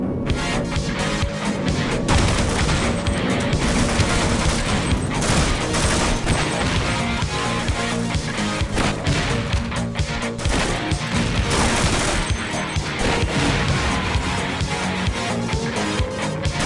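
Rapid SMG fire with a boosted rate of fire in the 1980s-themed Half-Life mod C.A.G.E.D. crackles in dense, sustained bursts with crashing impacts, loud and continuous for the whole stretch.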